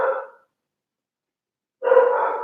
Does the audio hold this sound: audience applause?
no